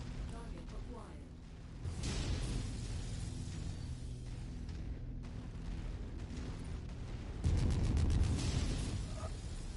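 A MechWarrior 5 target is destroyed amid rumbling explosions and mechanical battle noise, with a dense, loud roar that swells near the end. Announcer-style voice lines sound over the combat.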